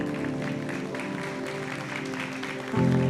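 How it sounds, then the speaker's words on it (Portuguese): Church congregation applauding during a celebration service, steady clapping over sustained organ or keyboard chords, with the music swelling louder near the end. "Você pode aplaudir ao Senhor?"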